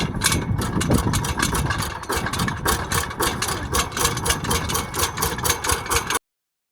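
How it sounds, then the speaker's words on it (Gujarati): A power tiller engine runs steadily nearby, a loud, continuous chugging idle with a fast regular beat that holds for about six seconds and then cuts off abruptly, with no talking over it. "હવે આપણે ચાલુ કરી દઈએ પાવર ટીલર."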